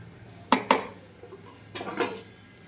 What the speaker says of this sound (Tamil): தக்காளி வதங்கிறதுக்குள்ளே சிங்கில் கொஞ்சம் பாத்திரம் இருக்குது. அதுவுமே வந்து கழுவிடுறேன்.